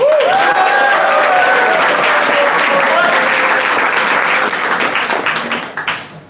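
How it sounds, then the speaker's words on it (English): Loud, dense applause at a Garage48 hackathon final event in Tashkent, sustained across the room and thinning out into scattered individual claps at the end. "Please give a big applause."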